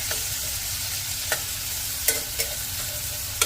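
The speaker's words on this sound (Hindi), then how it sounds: "मैंने एक कटा हुआ टमाटर ले लिया है, इसे भी मिक्स कर लेंगे प्याज में अच्छे से" Chopped tomato stirred into onions frying in a pan for Sindhi besan tikki sabji, a steady close sizzle with a few sharp spoon scrapes and clicks, no talking.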